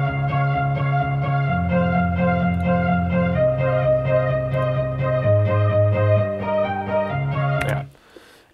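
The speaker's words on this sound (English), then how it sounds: "So I'm switching from my main sub bass to that bass for the breakdown. Together with the strings, it sounds like this." An electronic music breakdown plays a sub bass line that steps between notes under sustained strings and a rhythmic pulsing layer, loud and full, before cutting off abruptly near the end.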